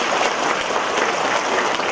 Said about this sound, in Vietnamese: chúng ta cho một tràng pháo tay thưa anh chèo